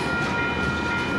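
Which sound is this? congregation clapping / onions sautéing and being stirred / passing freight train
passing freight train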